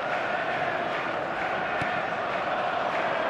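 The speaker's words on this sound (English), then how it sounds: "Crowd appreciates good football all round there." Stadium crowd noise from the football video game eFootball 2024, a steady broad roar of many voices with a rising murmur of appreciation, continuous and fairly loud throughout, with no clear commentary voice on top.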